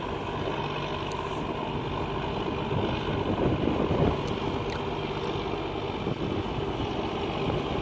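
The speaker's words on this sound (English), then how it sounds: "If it's got a bunch of wind noise, I apologize." Wind buffets an outdoor microphone on a farm during spring seeding prep with a tractor nearby. A constant low roar and rumble continues throughout, with brief gusty swells in the middle.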